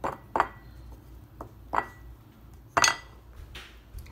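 Quinoa spooned onto the middle of a plate, a few scattered light clinks and taps of spoon on plate, close and quiet with gaps between them, no talking.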